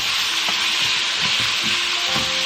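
Vegetables cook with smoked sausage in a pot for red beans and rice, giving a loud continuous sizzle with rhythmic stirring scrapes close by.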